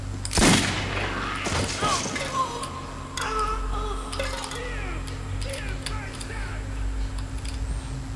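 Gunfire in the video game Metro 2033: a loud close shot up front, then scattered weaker shots and clatter amid game ambience, with someone talking briefly.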